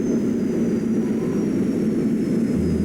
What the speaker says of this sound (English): That turbine is really knocking out the revs